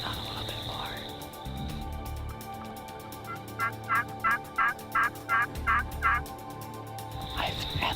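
A wild turkey tom and two jakes gobbling outdoors: a rapid string of about eight gobbling bursts at mid-distance over a steady background of insects or frogs, with no talk.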